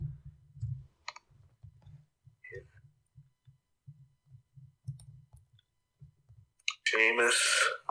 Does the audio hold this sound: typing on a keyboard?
yes